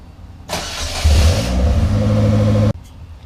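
A Polaris Slingshot's engine cranks briefly, catches and settles into a loud, close idle with a low rumble. It cuts off abruptly after about two seconds of running, and no one speaks.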